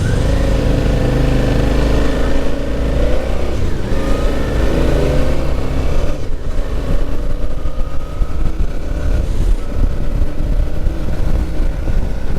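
A Suzuki V-Strom 650 motorcycle engine drones loudly and continuously on a test ride, its pitch rising and falling gently as the bike accelerates, with wind rush over it.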